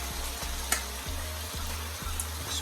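Shredded cabbage stirred into frying onion, scotch bonnet pepper and fresh thyme sizzles steadily in a pan, with a low hum and periodic scraping strokes of the stirring repeating about every half second.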